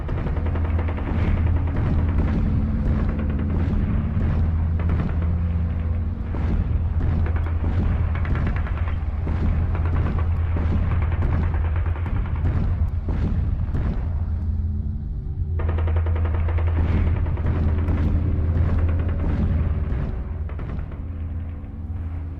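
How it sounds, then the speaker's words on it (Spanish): Artillery cannon fire during the siege of the Alcázar in Toledo, 1936: dense, continuous bursts of gunfire and explosions over a heavy low rumble, loud and sustained, with a brief lull partway through. "Ya se divisan desde el Alcázar las explosiones de los cañones de los nacionales."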